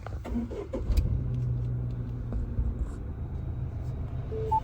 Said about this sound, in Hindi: तो हम करेंगे अब गाड़ी को start with this push start and stop button.